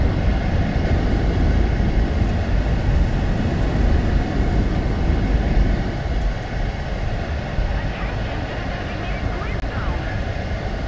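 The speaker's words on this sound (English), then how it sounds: "I've got 100 planes attacking me now" Aircraft engines drone steadily in War Thunder's simulator mode, a dense, continuous roar from a swarm of planes that stays loud throughout and eases slightly in the second half, with a voice talking over it.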